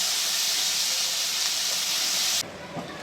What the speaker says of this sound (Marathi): हे पहा, ते पण छान परतून घेऊयात आपण